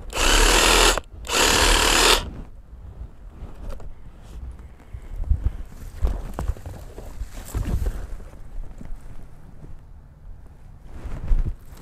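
A power hammer breaks up a large cherry tree in Australia: two loud, sustained bursts of hammering in the first two seconds, then a quieter stretch of rumbling outdoor work.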